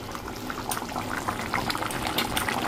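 Meat and potato curry boils in a pot on the stove, giving a steady close bubbling and popping texture with scattered sharper bursts throughout.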